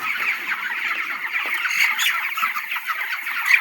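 A dense flock of chickens clucks nonstop inside a chicken farm shed, a constant, busy chorus of high-pitched chatter with no voices.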